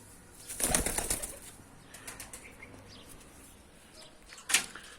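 A Ferozpuri pigeon flaps its wings in a quick close burst, followed by softer rustling and a second sharp flutter near the end, with faint background noise.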